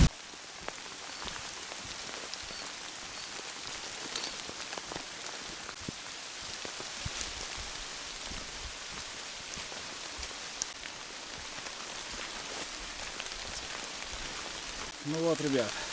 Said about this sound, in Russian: Ну, я ожидал, что попаду под дождь. Так и получилось.